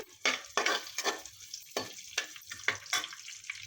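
Dried red chilies, curry leaves and coriander frying in a pan with mustard and cumin seeds for a stuffed ridge gourd curry, close irregular bursts of crackling sizzle and stirring scrapes with short quiet gaps between.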